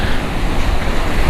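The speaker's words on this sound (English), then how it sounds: "Just between the wind and the waves and the tide, that is nasty." Strong wind and breaking waves at sea rush continuously, loud and close, with heavy wind buffeting on the microphone and no voices.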